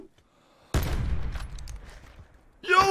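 Gunfire in Call of Duty: Blackout, one sharp close blast after near silence that decays into a rumbling tail, followed by another loud burst at the end.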